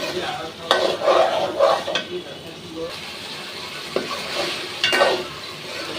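Curry sizzles in a frying pan while a spoon stirs it, close and steady, with scraping strokes against the pan over continuous frying.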